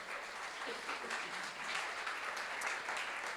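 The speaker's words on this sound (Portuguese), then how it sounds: "Dê um aplauso a Jesus por isso." A church congregation applauds together during a sermon, a dense, continuous wash of many hands clapping at once, fairly distant and even in loudness, with no distinct individual claps.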